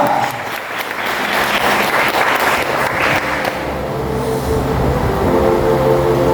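A congregation claps in praise during a worship service, a loud, dense rush of applause that swells and then thins into a steady rumbling roar.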